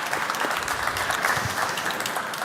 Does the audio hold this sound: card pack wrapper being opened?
no